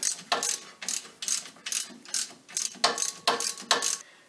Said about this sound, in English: Now that we've got it loose, we're removing the hub retaining bolts all the way.